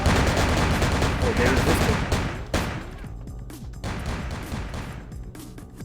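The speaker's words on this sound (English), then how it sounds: "them bullets don't hurt me anymore" Heavy gunfire crackles in Vampire the Masquerade Bloodlines, a dense barrage at first, then scattered sharp shots and impacts, with someone briefly talking over it.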